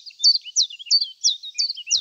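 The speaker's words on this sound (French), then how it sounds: "Les Anglais l'appellent Chiff Chaff, un nom qui rappelle bien son chant. Pour nous, il s'appelle le pouillot véloce." A common chiffchaff sings alone in spring, a clear close series of about six bright, evenly spaced two-note chirps repeated in a quick steady rhythm.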